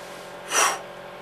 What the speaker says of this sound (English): gotta give it a quick sniff test